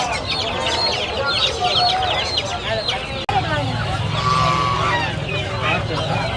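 Live chickens cluck and squawk at a busy poultry stall in a cheap grocery market in Pallavaram, Chennai, near and fairly loud, with people talking and market bustle throughout.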